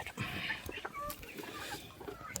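A beakless rooster clucks nearby in a short run of soft, uneven calls amid faint background noise, with no talk over them.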